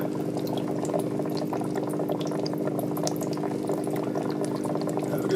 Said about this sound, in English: You should see bubbles start to come off.